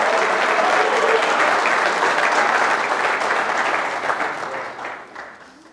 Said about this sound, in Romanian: Să-L aplaudăm pe Iisus!